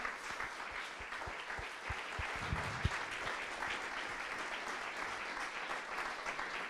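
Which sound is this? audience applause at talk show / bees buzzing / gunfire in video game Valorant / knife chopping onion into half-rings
audience applause at talk show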